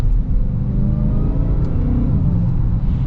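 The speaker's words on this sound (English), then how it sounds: "Love that supercharger whine." A 2022 Dodge Charger Hellcat Widebody's supercharged engine drones loudly from inside the car, a steady deep rumble with a faint whine over it as the revs hold at higher RPM.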